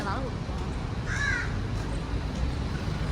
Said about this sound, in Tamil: காக்கா குரலை கேட்க